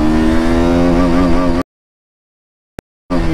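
A KTM RC motorcycle accelerating in first gear: a loud, close engine drone climbs steadily in pitch for about a second and a half, then cuts abruptly to silence before briefly returning at the end.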